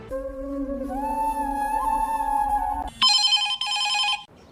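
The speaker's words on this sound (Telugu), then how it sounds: "ఎవరు సూరన్న ఫోన్?" A phone rings loudly nearby: a sustained melodic ringtone tone, then a sharper, brighter ringing burst before it cuts off.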